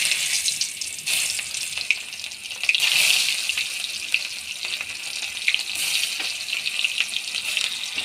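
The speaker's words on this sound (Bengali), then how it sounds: "লাল লাল করে ভেজে নেওয়া," Onions fry in oil spiced with whole garam masala until they turn red, for a raw banana kofta curry. The sizzle is moderate and steady, with scattered stirring clicks and a brief louder burst near the middle.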